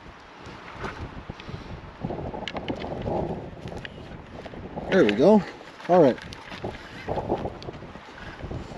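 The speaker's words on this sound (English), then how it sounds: "Oh, it's getting windy." Wind gusts blowing across an open outdoor spot in Montana, a steady rushing buffet against the microphone that rises and falls under nearby voices talking.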